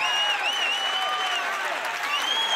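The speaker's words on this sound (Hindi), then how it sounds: "अब ताली बजावन रहो" Applause from an audience at a Chhattisgarhi film event, sustained and fairly loud. Thin whistling tones cut through above the clapping.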